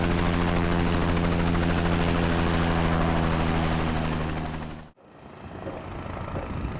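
A helicopter at a fly-in event at Brooklands, its loud, steady rotor drone filling the air close by. The sound is cut off abruptly, then continues as a quieter engine hum.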